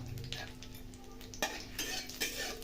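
Cumin, mustard and poppy seeds fry and crackle in a pan while a utensil stirs them, a close steady sizzle broken by a couple of sharper scraping clacks, with no talk.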